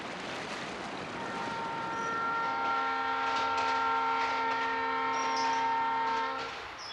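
A train crosses a bridge over the Dong River in Jeongseon, Gangwon Province, sounding one long, sustained horn blast over the rolling rumble of the railcars, swelling in and fading out.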